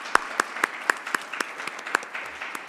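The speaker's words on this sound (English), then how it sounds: "I want to invite you to give another round of applause to our speakers." Sparse audience applause at a launch event for a space norms atlas, a handful of distinct, close claps at a steady rhythm over a light background patter.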